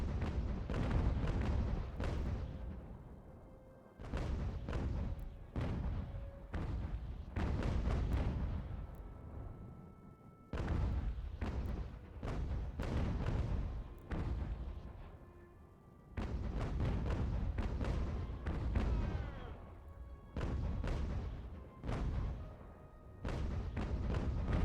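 Cannon artillery booms in the strategy game Ultimate General: American Revolution, heavy rolling blasts from nearby guns firing in overlapping volleys, with a few brief lulls between the thunderous bursts.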